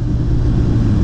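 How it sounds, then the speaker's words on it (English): Motorcycle exhaust revving under a bridge, a loud, steady low rumble that fills the short stretch with no break. "Under a bridge, gonna get some exhaust action."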